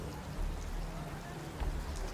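Rain falls as a soft, steady patter with scattered droplet ticks, faint and continuous throughout with no voices.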